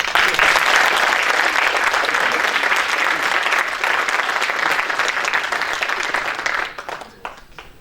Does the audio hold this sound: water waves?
no